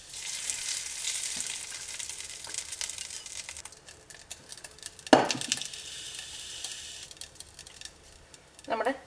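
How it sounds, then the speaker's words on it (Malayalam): Cashew nuts and curry leaves, with dried red chillies, frying in oil in a pan for tomato rice: a steady light sizzle with occasional stirring scrapes and a few sharp clinks of a utensil. "നമ്മുടെ കാഷ്നട്ട് മൊരിഞ്ഞിട്ടുണ്ട്."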